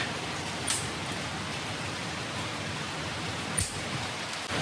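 Steady rain falls outside, a constant soft hiss with no breaks, heard alone at low level. Two faint brief clicks stand out above it.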